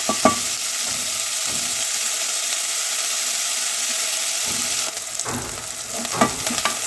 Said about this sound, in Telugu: ఆనియన్ వేసేయండి. ఇది కొద్దిగా లైట్ బ్రౌన్ కలర్ వచ్చేలాగా వేగనివ్వండి.